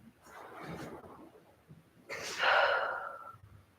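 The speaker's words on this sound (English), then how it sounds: "One more deep breath here." Deep breathing in a yoga pose on a mat, heard close: a slow airy inhale followed by a longer, louder whooshing exhale, with no talk over it.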